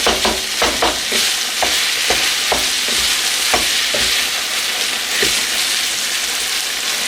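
Meat frying in a non-stick pan, a continuous loud sizzle with repeated scraping taps of a utensil against the pan, close by, with no talking.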